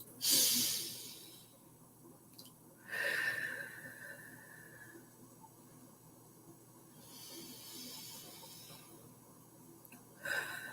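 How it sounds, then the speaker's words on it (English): A few deep breaths are taken, soft airy inhales and exhales rising and falling in a slow rhythm, close and fairly quiet, with no talk. "Now I'd like you to take 3 nice deep breaths."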